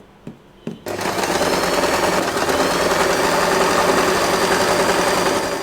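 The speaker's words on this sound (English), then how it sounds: "we are going to sew this part" Sewing machine running steadily to stitch a straight seam joining two-tone fabric ends for a bow-shaped fabric-covered headband; a couple of soft clicks come first, then a continuous close, fairly loud motor whir with rapid needle rhythm and no talking.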